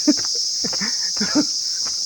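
Cicadas at Wadi Mibam near Tiwi, Oman, keep up a steady, loud, high-pitched drone, with occasional voices heard faintly underneath.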